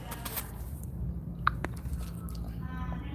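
Someone chewing crunchy fried onions on a plate of Indonesian jalapeño fried noodles with egg, close soft mouth noises with a single sharper crunch partway through, over a low background hum.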